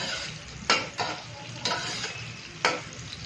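Onions fry in ghee in a pan, giving a continuous close sizzle punctuated by a handful of sharp scraping stirs, with no voices.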